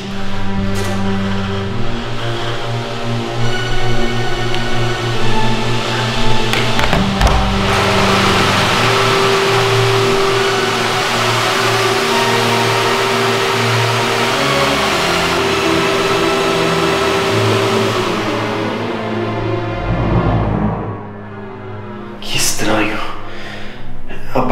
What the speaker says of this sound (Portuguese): Aparentemente, o aspirador da banheira ligou sozinho